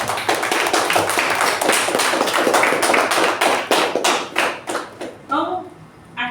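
Clapping from a small meeting group for the secretary, a run of distinct hand claps that thins out and fades, followed by a voice starting to speak.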